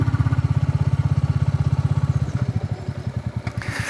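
Royal Enfield motorcycle of about 20 hp riding steadily, its single-cylinder engine giving a loud, even thumping pulse close by, the beat loosening and turning rougher near the end.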